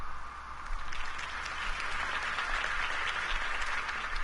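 Crowd applause after a mayoral campaign speech in a Batman video game, a broad, steady wash of clapping from a large outdoor audience, sustained and even throughout.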